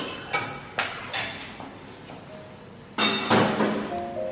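A tomato mixture is scraped and turned into a cooking pan, with several sharp metallic clinks and scrapes of a utensil against the pan, close and moderately loud, followed by a louder burst of scraping near the end.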